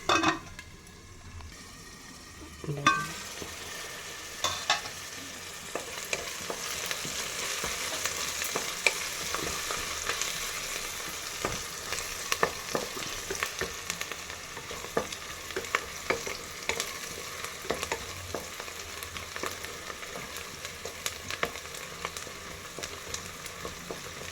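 Onions fry in oil for Andhra mutton curry. After a quiet start, a bright sizzle bursts in near the three-second mark and holds steady, with scattered pops and crackles and occasional light utensil clinks. No voices are heard.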